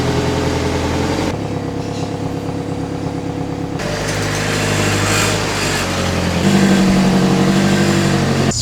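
A Nissan S13 runs at low speed while it backs out and swings round, its engine a close, steady idle with light revs that rise slightly near the end.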